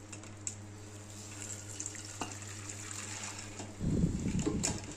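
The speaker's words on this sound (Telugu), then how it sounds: "ఇప్పుడు నేను స్ట్రైనర్ తీసుకున్నాను స్ట్రైనర్లోకి ఇలా మొత్తం కూడా వడపోస్తున్నాను" Water from soaked sorghum (jowar) grains pours through a kitchen strainer into a bowl: a low steady trickle that swells into a louder, splashing gush near the end.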